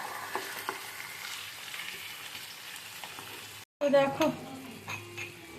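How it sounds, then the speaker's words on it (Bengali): Marinated chicken sizzles in a hot pan as it is stirred, with a brief pause followed by louder scraping and clatter of a utensil; a voice speaks briefly. "এবারে ম্যারিনেটেড চিকেনগুলো দিয়ে দেবো। চিকেনগুলো দিয়ে কষিয়ে নিই ভালো করে।"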